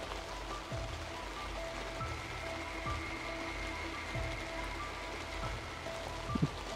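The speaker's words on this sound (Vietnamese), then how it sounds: "Hiện tại thì trời mưa rất là nhiều rồi" Heavy rain falls in a steady, dense hiss with a rhythmic low thudding underneath, moderately distant and consistent throughout, with a brief sharp knock near the end.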